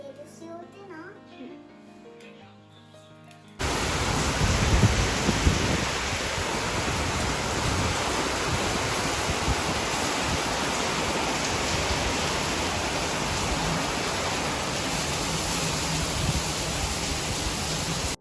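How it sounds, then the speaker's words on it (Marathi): Heavy monsoon downpour in the Konkan region, a dense steady roar of rain that cuts in abruptly after a few seconds of quieter voices and music, then holds loud and unbroken to the end. "असं आज मुसळधार पाऊस चालू असतो इकडे कोकणामध्ये."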